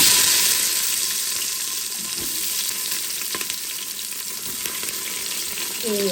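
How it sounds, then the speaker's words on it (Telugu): Onions frying in hot oil for prawn biryani, a steady broadband sizzle running throughout with occasional stirring scrapes, close and continuous without speech. "అన్నీ వేసేసి ఆనియన్స్ కూడా వేసేస్తుంది"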